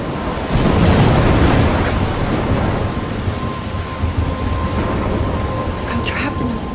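A heavy thunderstorm in the video game Life is Strange: a loud rumble of thunder rolls in over steady pouring rain, which keeps hissing as the thunder fades.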